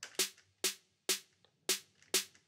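Five sharp, snappy snare drum hits in a steady rhythm, each short and crisp with a quick decay, played alone.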